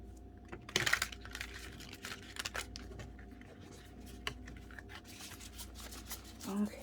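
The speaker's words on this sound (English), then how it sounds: "I already shuffled off camera, but I'll shuffle" Tarot cards are riffled and shuffled by hand at close range, giving quiet, papery clicks and flutters with a louder burst near the start and soft shuffling throughout.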